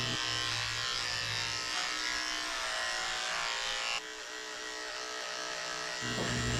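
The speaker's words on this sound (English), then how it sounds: "I'm shaving everything, even her tail" Electric clippers buzz steadily and loudly while shaving down a Cockapoo's coat, the motor tone shifting slightly in pitch as the blades move through the hair, with no talking.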